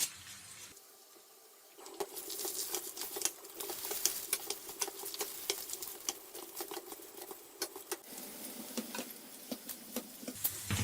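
Rice soaked in salted lemon water crackles as it hits hot oil in a pan, a dense, close patter of quick pops and sizzles that keeps going after a brief quiet start.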